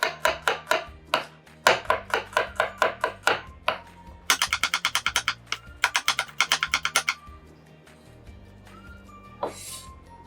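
A knife slices through an onion on a cutting board in quick rhythmic bursts of sharp, close taps, pausing between runs, with no talking.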